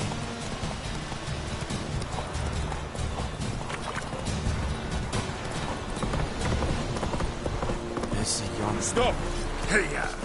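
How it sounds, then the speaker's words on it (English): A horse gallops in a video game, its fast hoofbeats pounding steadily and close under game ambience, with voices speaking over the run. "Faster. Run, Roach."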